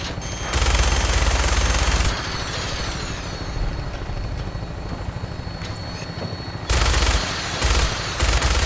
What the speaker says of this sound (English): minigun in front of you is loaded and ready to fire